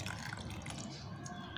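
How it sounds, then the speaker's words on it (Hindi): A glass of water is poured onto medical cotton, giving a continuous close splashing and trickling wash with no talking. "अब मैं इसमें ऐड करने वाला हूँ दसवां पानी का गिलास"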